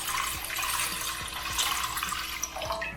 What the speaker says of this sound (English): I'm going to put the 4 cups of water into a pot